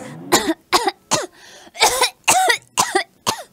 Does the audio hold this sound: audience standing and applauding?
no